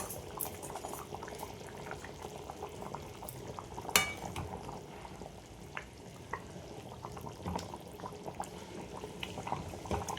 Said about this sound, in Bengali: দেখো ঝোলটা আমার ফুটছে ঝোলটা বেশি গাঢ় করবো না পাতলাই রাখবো